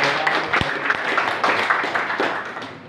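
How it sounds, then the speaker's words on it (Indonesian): An audience at an Indonesian radio organisation meeting gives brief, light applause, with scattered claps rising and fading over a few seconds and a faint murmur of voices underneath. "Maka tepuk tangan untuk DPPOW"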